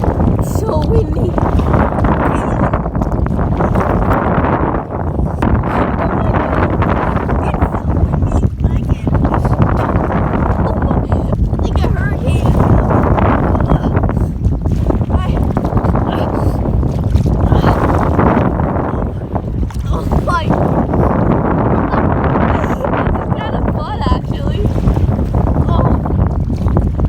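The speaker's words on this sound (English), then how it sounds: "Windy." Strong wind buffets the microphone throughout while fishing from a boat, a loud continuous roar with gusting swells and no pauses.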